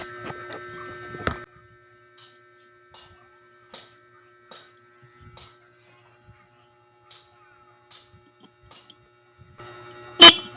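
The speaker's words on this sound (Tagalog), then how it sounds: "So ibig sabihin hindi pa sira yung busina ni boss." A motorcycle horn honks in a short, loud burst, then a quiet stretch of faint clicks and taps, then a second sharp honk near the end.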